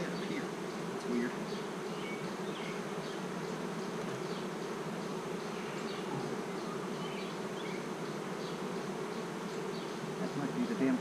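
Honey bees hum continuously around a two-piece hive feeder. A dense, steady buzz of many insects is close, with individual bees passing nearby.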